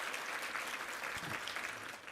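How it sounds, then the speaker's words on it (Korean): Sunday service congregation in a church claps for the special music performers, a dense, even wash of many hands heard at a low, distant level throughout. "우리 한번 격려의 박수 한번 부탁합니다"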